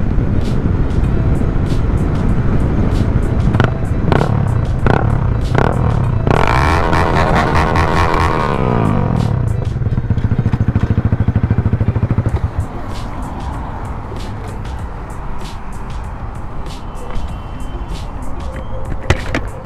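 Loud motorcycle riding through traffic, its engine a steady close roar with a passing vehicle swelling by mid-way before the road noise settles lower.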